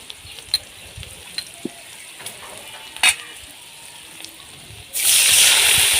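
Scattered soft clinks of stirring, then a sudden loud, sustained sizzle as a little water hits cumin paste, turmeric and red chili powder frying in a pan for pointed gourd and shrimp curry.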